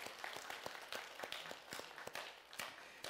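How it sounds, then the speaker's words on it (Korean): Congregation at a Sunday church service applauding a family's gift of rice cakes, steady quiet clapping from many hands at a distance, sustained for a few seconds with no talk over it. "박수 한번 하시겠습니다."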